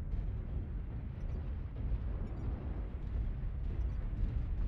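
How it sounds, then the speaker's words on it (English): A rumbling blast in the video game MechWarrior Online, a dense low roar that rolls on steadily for several seconds with no break, loud and close, and no voices over it. "Yeah, I saw the explosion as well, though."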